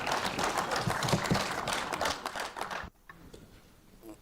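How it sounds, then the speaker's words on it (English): Applause from the audience at the closing of an African Union annual conference of parliamentary speakers, a dense burst of many hands clapping in a hall that stops abruptly near the end, leaving quiet room tone. "another round of applause, please, for this passionate presentation"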